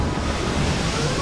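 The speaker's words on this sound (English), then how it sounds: "We got hit by a wave on our stern." A big sea wave strikes the stern of a lifeboat in rough seas, a short dense rush of water and wind noise, loud and close, with no voices.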